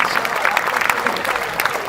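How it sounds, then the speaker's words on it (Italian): Audience applause at an outdoor folk music event in Villacidro honoring a launeddas player, dense steady clapping from a crowd, fairly loud, with voices mixed in. "Facciamo un applauso all'artista"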